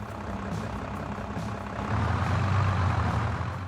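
A vintage tractor or farm vehicle engine heard from inside the cabin in Farming Simulator, a bright, lightly filtered, throbbing rumble that swells louder partway through, steady and close with no talk.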